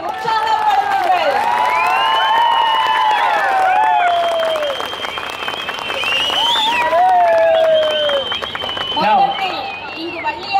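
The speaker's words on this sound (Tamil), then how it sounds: "இங்குள்ள அனைவரும் தங்கள் கையொலி எழுப்பி கரகோஷத்துடன் உற்சாகப்படுத்துங்கள்" A large audience at a world record announcement applauds and cheers, with whoops and shouted voices rising over continuous clapping; people talk and call out throughout.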